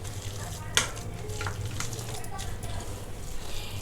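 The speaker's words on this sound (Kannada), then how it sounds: "ಈಗ ಹುಣಸೆ ಹುಳಿ ಬಿಡ್ತಾಯಿದ್ದೀನಿ." Tamarind water goes into ridge gourd masala frying in a pan, producing a continuous sizzle broken by scraping stirs and one sharp knock.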